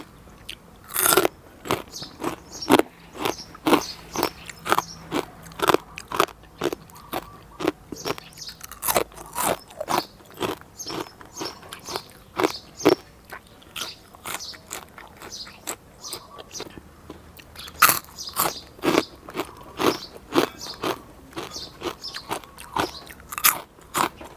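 Crispy fried pork with crackling rind, served with a spicy pounded salad, being bitten and chewed close up, a steady run of sharp crunches in uneven bursts with short pauses between bites, no talking.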